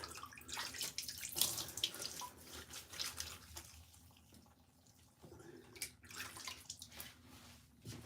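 Water runs from a tap while a freshly shaved head is rinsed, a splashing, hissing flow that swells and eases in uneven surges, close by and fairly quiet.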